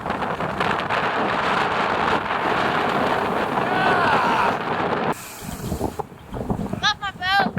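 Small sailboat heeled hard with the rail buried on a blustery small-craft-advisory day: loud continuous wind buffeting and rushing water close to the mic, dropping to choppier splashes near the end, with brief voices at the close.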